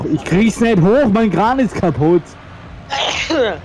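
Someone speaks German in a lively voice, then after a short pause one sharp, breathy sneeze bursts out near the end, close and loud.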